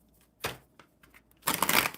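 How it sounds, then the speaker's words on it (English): Deck of mermaid-themed cards being shuffled by hand, with a short riffle burst followed by a longer, louder crisp flurry of card flutter, close and alone. "I'm just going to go ahead and shuffle the mermaids for Christine"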